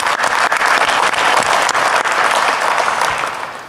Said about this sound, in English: can we give her a round of applause, please?